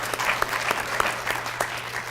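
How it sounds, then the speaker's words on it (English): Applause at a company employee meeting, a moderate crowd clapping in a steady patter with several sharper individual claps standing out, lasting about two seconds. "let's give them a round of applause"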